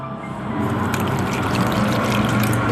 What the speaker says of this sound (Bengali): এবার এই সুজিটাকে আমি একটুখানি জল দিয়ে ভিজিয়ে রেখে দেবো।